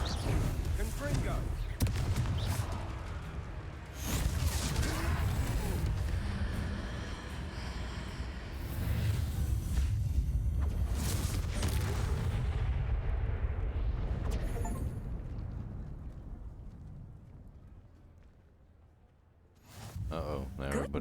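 Blasting Confringo spell explosions from Hogwarts Legacy, heavy booming blasts and rumbling impacts repeating through a long stretch of chaotic fighting, with voices talking over much of it.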